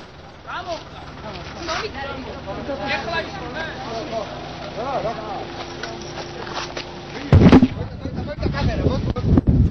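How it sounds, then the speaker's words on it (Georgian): Gunfire aimed at a television news crew during a live broadcast in Georgia, a sharp loud burst near the end following a stretch of continuous speech, with rough noisy rumble afterward. "გადამღებ ჯგუფს რაღაც ესროლებს"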